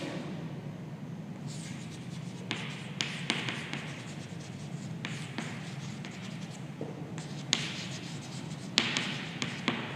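Pen or pencil scratching across paper while a cash flow statement is written out by hand, steady faint strokes with scattered taps and brief louder scrapes, no voices.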